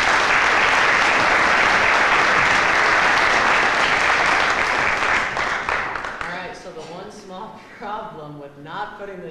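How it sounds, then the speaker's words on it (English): Audience applauding at a junior high and high school music concert, loud dense clapping for about six seconds that then thins out and gives way to someone talking. "Give him a round of applause."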